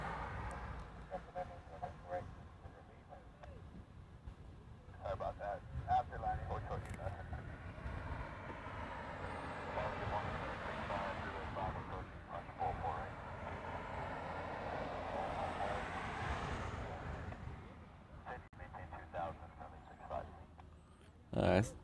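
A heavy jet departs Honolulu airport, its distant roar swelling over several seconds, peaking, then fading away, while people talk throughout.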